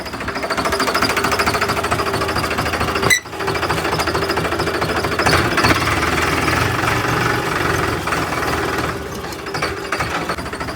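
A tractor engine running at a wedding, a loud, close, steady rhythmic diesel chugging with a knocking pulse, a brief dip partway through, then continuing unbroken with no talk.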